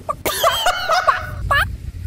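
A person imitates a chicken, giving a string of clucking, bawking calls close to the mic, followed by a short squawk.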